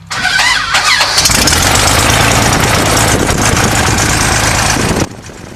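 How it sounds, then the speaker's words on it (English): A light aircraft's propeller engine starts up: a brief whirring crank, then the engine catches into a loud, steady running roar that holds for several seconds before cutting off abruptly. "as soon as we get a good engine start"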